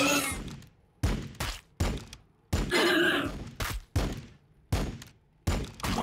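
Gunfire in a video game, repeated loud bursts of shots in short volleys separated by brief gaps, close and sharp.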